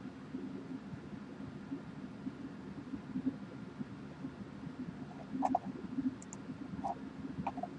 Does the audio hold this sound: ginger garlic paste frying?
no